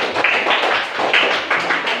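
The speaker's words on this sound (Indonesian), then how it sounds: "Tepuk tangan buat kita semua." Students in an elementary school classroom clap together in a loud, dense burst of applause, close and steady for a couple of seconds.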